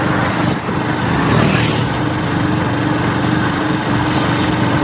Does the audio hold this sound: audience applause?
no